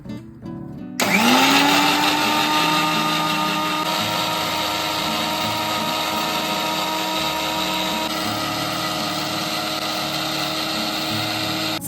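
A kitchen mixer grinder blends a small batch of chutney with a little water for dhokla, starting abruptly after a second of near silence and then whirring loudly and steadily at close range for the rest of the clip.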